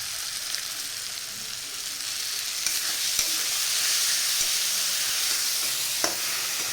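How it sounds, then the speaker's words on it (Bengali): Spices sizzle in oil as they are stirred and fried down for a chicken dish, a loud, bright, continuous frying hiss with a few faint scrapes of the spoon. "বন্ধুরা দেখুন ততক্ষণে আমি এই যে মশলা দিয়ে কষে ফেললাম"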